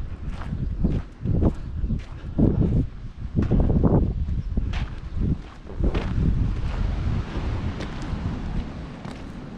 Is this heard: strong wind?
yes